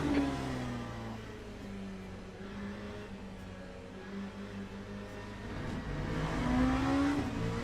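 LMP2 prototype race car in Le Mans Ultimate, a steady engine drone with shifting harmonic tones as revs rise and fall, growing louder near the end, with no talk.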